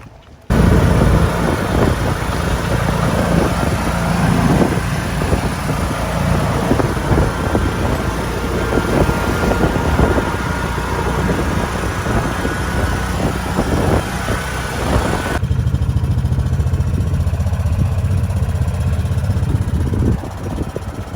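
A car cruises through beach-town streets at St Pete Beach, Florida, its engine giving a continuous loud rumble with road and wind noise that shifts to a lower, steadier drone near the end.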